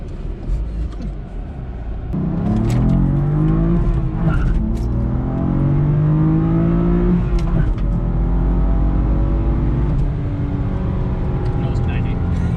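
A completely stock 2015 BMW M3 with a six-speed manual accelerates hard, its engine note rising steadily through a strong pull, heard loud from inside the cabin with steady road noise underneath.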